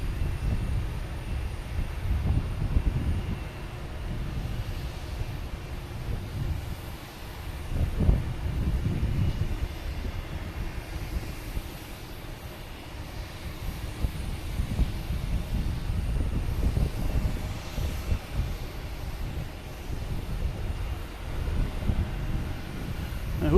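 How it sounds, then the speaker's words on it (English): An Avianca Airbus A320neo bound for San Salvador at Boston Logan Airport sends a steady, distant jet roar across the field, rising and falling in low rumbling waves with no voices. "we got Avianca heading to San Salvador in a 320neo"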